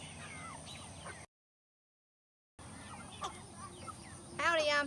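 Chickens on a homestead cluck and call faintly over a low outdoor hum, with a gap of silence in the middle and a sharper bird call near the end.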